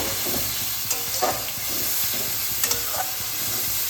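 Mixed vegetables with turmeric are stirred in a pan while cooking for a sea fish curry, with spatula strokes scraping over a steady close frying sizzle and a few sharper clinks, no talk.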